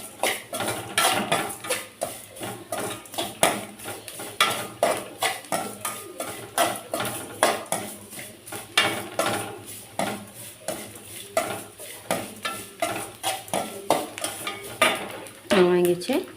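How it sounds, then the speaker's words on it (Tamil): Onions are sautéed in a pan and stirred with a spoon, making repeated rhythmic scraping and clinking against the metal with a light sizzle underneath. There is no talking. "நல்லா வணங்கிட்டு வெங்காயம் நல்லா பச்சை வாசனை போகிற வரைக்கும் நல்லா வணக்கிடலாம்"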